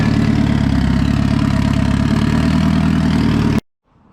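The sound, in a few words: Honda EK hatchback engine idling at 1,000 RPM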